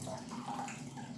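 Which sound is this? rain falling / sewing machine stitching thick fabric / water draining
water draining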